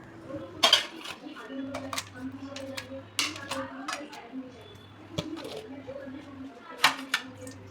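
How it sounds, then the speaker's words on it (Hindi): Washed steel dishes, cups and utensils being put away on a kitchen slab after washing, with repeated close clinks, clatters and knocks in an irregular rhythm and a voice talking over them. "बस मैं लगा रही हूँ उन सारे बर्तनों को"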